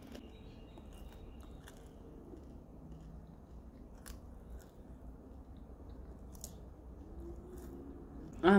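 Someone bites and chews crunchy cooked mopane (masonja) worms up close, with faint intermittent crunches in a quiet room and a louder burst at the very end.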